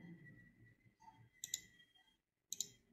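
Two quick pairs of computer mouse clicks during SOLIDWORKS 2018 modelling work, crisp and close, standing alone against a quiet background hum.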